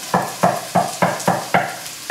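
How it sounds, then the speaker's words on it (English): Garlic sizzling in a pan, with seven evenly spaced scraping strokes of stirring over a steady frying crackle, close and loud, no talk. "That's sizzling away nicely"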